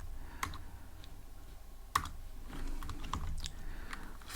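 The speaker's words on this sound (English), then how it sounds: "So I'm gonna type window dot geometry" Code being typed on a computer keyboard, a few soft scattered key clicks at first, then a denser run of quiet taps, faint and close against low background noise.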